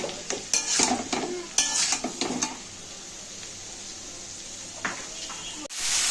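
Onions with salt are stirred and mixed in a pan, with close clattering scrapes and soft sizzling in bursts through the first few seconds, then a quieter stretch and a final sharp knock.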